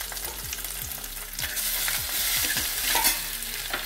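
Rice tossed and stirred in a hot pan with browned garlic and chili, a steady close sizzle of frying broken by repeated scraping strokes of the spoon at a quick, uneven rhythm, with no talk.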